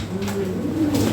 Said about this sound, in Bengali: এটা বিদেশি ব্লাড লাইন কবুতর